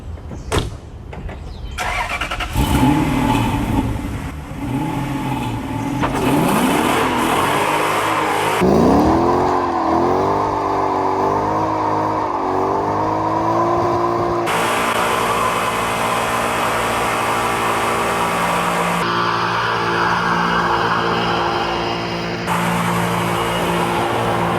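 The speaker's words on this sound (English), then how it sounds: "Let's go and see how this Blackline limited slip works." A sleeper Volvo car with a Blackline limited slip rear axle revs hard during a burnout test, its engine climbing and falling in repeated loud surges with rising pitch sweeps, close and sustained, no talking.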